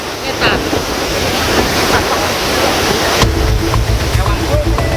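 Rushing floodwater from the burst Tuntang river dike pouring over a road in Grobogan, a loud, steady roar of churning water with wind buffeting the microphone and a low rumble.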